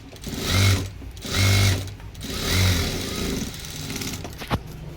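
A domestic sewing machine runs in three short bursts while top-stitching a blouse, each whirring run followed by a brief pause, ending in softer rattling and a small click, close and loud.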